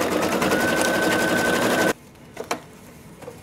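A sewing machine stitches down appliqué fabric on St Patrick's Day treat bags, running in a fast, steady, close-up hum for about two seconds before stopping, followed by a few faint handling clicks.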